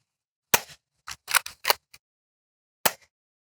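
Dart Zone Pro Mk. 2 foam dart sidearm blaster firing outdoors at a tree about 130 feet away, with a sharp pop followed by a quick burst of four snappy shots and one more crisp pop after a pause, with nobody talking.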